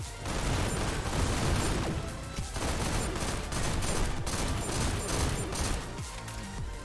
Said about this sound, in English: God, the burst rifle when on the wall is actually, like, insanely good.